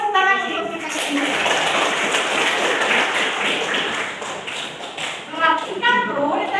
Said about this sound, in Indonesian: Mas mau bilang tepuk tangan untuk kita kesini